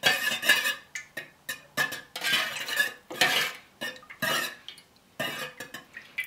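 A spoon stirs fresh coffee fragrance oil into a small amount of melted wax for homemade wax melts, giving close, repeated clinks and scrapes in short uneven bursts with brief pauses and no talking.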